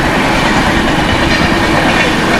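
A train runs along a nearby railway track, making a loud, dense, continuous rumble of wheels and carriages that stays steady throughout, with no speech.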